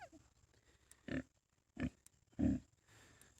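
Pigs in a farm pen fenced with metal hog panels give three short, close grunts spaced about a second apart, with near silence between them.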